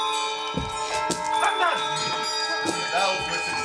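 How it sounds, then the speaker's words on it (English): Several bells ringing together throughout a house, overlapping metallic chimes and clangs sounding continuously at moderate volume, with a voice speaking over them. "he heard the sound of a bell that rang so softly on the outset that it could scarcely be heard"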